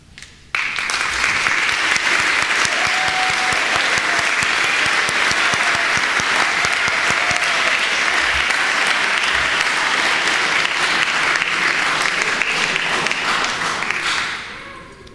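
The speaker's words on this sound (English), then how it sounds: "We would love to applaud you." Steady, dense applause from a graduation ceremony audience, loud and continuous for over ten seconds before tapering off at the end, with no speech over it.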